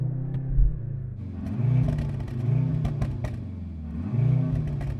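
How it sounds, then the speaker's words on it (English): A four-cylinder Mercedes-AMG engine, likely the A45, revs in short repeated bursts: a low idle rumble rising into three throttle blips with exhaust crackle, recorded close with no talking. "I actually quite like the sound of that car."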